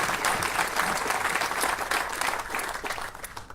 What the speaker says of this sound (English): Another round of applause for Aaron Williamson